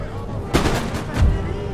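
Musket and artillery fire in Empire: Total War, a loud close volley cracking out followed by a heavier booming report, over a continuous battle din.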